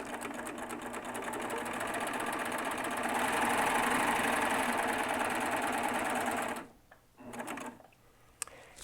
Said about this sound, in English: Okay, and we're just going to start stitching